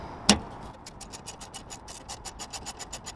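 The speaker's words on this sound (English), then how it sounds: "socket, size 10, and a little ratchet" Small ratchet with a size 10 socket working a bumper bracket bolt on a Ford Focus ST, one sharp click followed by a steady run of quick, faint ratcheting ticks, close and alone.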